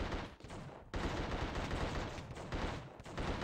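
Gunfire from weapons in the PS2 video game The Suffering: loud, dense, rapid bursts rattling almost without pause, with a couple of brief gaps between volleys and no talking.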